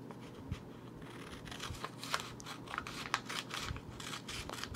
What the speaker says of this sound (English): So you're going to cut across that line